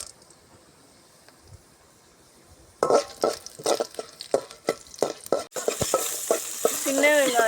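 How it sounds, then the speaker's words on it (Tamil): Dried red chillies, chana dal and shallots sautéing in a pan: quiet at first, then a spoon scrapes and stirs in repeated strokes over a rising sizzle, ending with a louder continuous fry. "சின்ன வெங்காயம், நல்லா வதக்கிக்கிறணும்."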